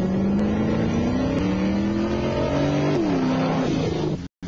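A car speeds past a police radar unit fitted with a radar jammer, travelling at about 61 miles per hour: a loud, steady engine drone with harmonics rising in pitch as it approaches, dipping as it passes, then cutting off abruptly.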